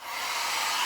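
A small mini blow dryer whirs on, a loud steady close-up airy roar that holds for the whole moment with no talking.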